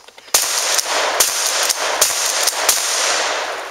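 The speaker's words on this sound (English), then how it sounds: "gonna do four shots for us" A circa 1914 Remington Model 10 12-gauge pump shotgun fires a series of loud, close shots in rapid succession, each blast ringing into the next without a pause.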